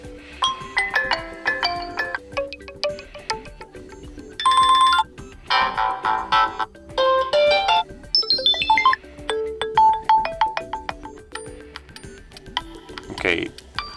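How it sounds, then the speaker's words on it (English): Preset ringtones on an EssentialB HeYou 60 phone play one after another as short melodic snippets, chimes and beeping tunes with brief gaps between them, clear and close. "let's just select one of the preset ringtones"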